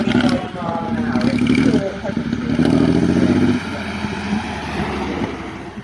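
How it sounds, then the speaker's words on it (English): A 1905 Italian vintage car with an inline-four engine of over 10 litres and about 100 horsepower runs with a loud, steady, throbbing rumble, while a voice talks over it. "Its colossal inline-4 displaces well over 10 liters and produces roughly 100 horsepower, astronomical for 1905."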